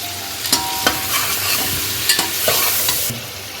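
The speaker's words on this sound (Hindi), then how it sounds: "1 टेबलस्पून पिसा धनिया, 1 टेबलस्पून कुटी लाल मिर्च और 1 टेबलस्पून जीरा और इसके साथ इसको भून लें।" Ground coriander, crushed red chilli and cumin sizzle steadily in hot oil for beef pulao while a spoon scrapes and stirs the pan, with close, dense frying hiss and several sharp stirring knocks.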